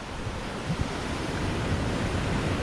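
Ocean surf breaking along the Hawaiian coast on the road toward Hana, a steady, full roar of waves with rushing wash and no voices.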